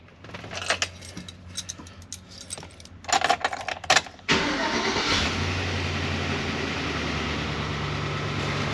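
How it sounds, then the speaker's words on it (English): A Chevy Express van engine cranks and catches on its first startup after a new oil pump install, settling into a loud, steady run after some clicks and cranking. "We're gonna see what she does on the first startup."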